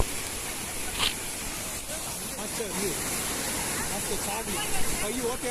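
Water plunges steadily at Sithathipuram dam near Madurai, a broad continuous roar heard close and fairly loud, with a brief knock or two on top.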